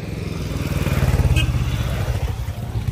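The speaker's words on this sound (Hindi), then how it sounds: "तो बाइकर गैंग जा रही है" Motorcycles in a group ride past on a mountain road in the Spiti Valley, a loud, pulsing engine rumble that swells and then eases slightly as they go by.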